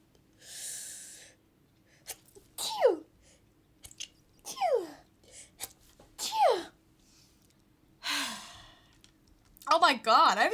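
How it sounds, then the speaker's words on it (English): A woman sneezes during a video game stream, with a few sharp breathy sneezes and gasping inhales spread across the stretch, close and loud, with quiet gaps between. "I have to sneeze."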